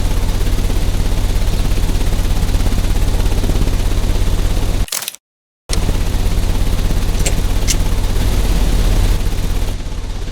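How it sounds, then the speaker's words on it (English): A large machine engine in the Sherlock Holmes: Crimes & Punishments video game runs with a loud, steady, dense roar that cuts out briefly midway, then resumes just as strongly with a few faint clicks. "The engine has started."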